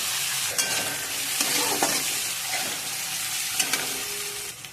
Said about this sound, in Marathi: हे छान परतून झालेलं आहे